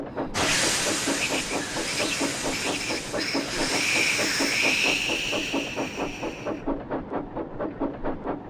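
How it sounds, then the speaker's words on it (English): A tank engine's safety valve hisses steam loudly and continuously, a broad steady rush that holds for several seconds before cutting off, with rhythmic clanking of the train running underneath and carrying on after the hiss stops. "steam hissed from his safety valve in an alarming way"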